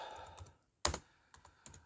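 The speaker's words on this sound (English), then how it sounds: "my keyboard is actually working today" Computer keyboard typing comes in a few quick clicks with a brief pause between bursts, close and fairly quiet, and one sharper keystroke stands out.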